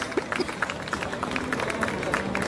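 Crowd at a women's beach volleyball championship applauding the third-place players, a dense steady patter of clapping mixed with crowd murmur and a voice over a loudspeaker.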